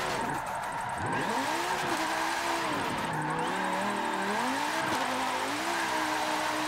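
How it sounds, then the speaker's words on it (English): V10-powered limousine drifting in Forza 7, engine revving hard with repeated sharp pitch swoops and drops as the throttle is worked, loud and continuous with no voices. "Having a V10 in it just makes it even more fun."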